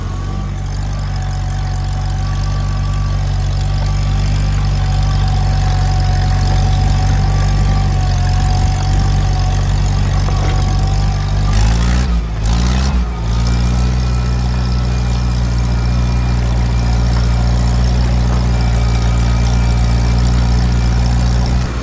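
Antique tractor engine plowing a deep furrow at a plow day, a loud, steady low-pitched running drone held throughout with a brief wobble near the middle.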